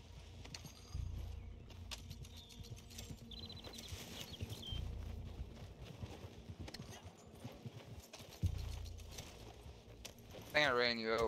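Horse hooves clip-clop in Red Dead Online, a steady run of close hoof strikes with occasional jingling tack, while players talk over them.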